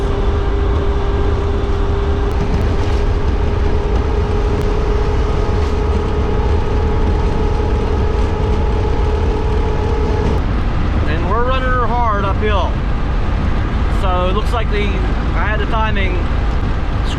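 A Chevrolet 454 big block engine powers an RV driven hard uphill, a loud constant rumbling drone with road and wind roar inside the cab, and someone talks over it toward the end.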